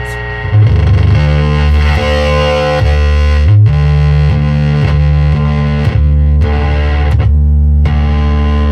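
Electric guitar played through an EHX Ram's Head Big Muff fuzz pedal, loud thick distorted chords with a buzzy, sustained tone, changing every second or so with brief gaps between strums.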